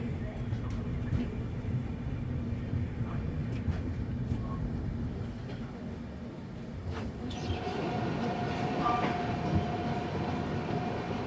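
Vidarbha Express train rolling on rails, a steady rumbling clatter from inside the carriage with faint background voices and a brief higher tone near the end.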